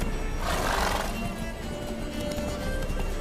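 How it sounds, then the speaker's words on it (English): In The Witcher 3: Wild Hunt (Blood and Wine), a horse neighs loudly near the start, then keeps galloping with a steady rumbling beat of hooves under ambient game noise. "Hop in the saddle! Gotta catch it! Giddy up."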